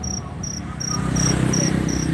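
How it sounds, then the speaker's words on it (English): Loud crickets chirping at night in Da Nang, Vietnam, a steady pulsing trill repeating about every third of a second over a low rumble of street and traffic noise. "I can hear crickets."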